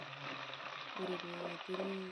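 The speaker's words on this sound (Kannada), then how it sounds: "ಸೌಟಲ್ಲಿ ಎಲ್ಲ ಒಗ್ಗರಣೆ ಹಾಕಿದಂಥ ಎಲ್ಲ ವಸ್ತುಗಳನ್ನು ಅದರಲ್ಲಿ ತಿರುಗಿಸಿ" A tempering of spices and onion sizzles in a ladle as it is stirred, a close, steady crackling fry with faint scraping through the short stretch.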